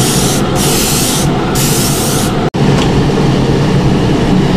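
An airbrush sprays ComArt opaque pearlescent paint onto a fishing lure with a close, loud, steady hiss, split into short pulses and then a longer stretch after a brief cut.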